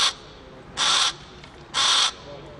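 Crows caw loudly and close by, two long harsh calls separated by a brief pause, in an urban setting in Villeurbanne, France.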